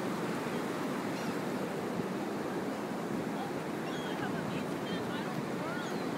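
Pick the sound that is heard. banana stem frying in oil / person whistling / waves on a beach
waves on a beach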